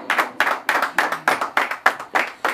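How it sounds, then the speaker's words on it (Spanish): A small group claps for a girl at her quinceañera celebration with a mariachi band, the claps falling in a steady, even rhythm of about three per second, close and fairly loud, with no talking over them. "y ese fuerte aplauso para ella."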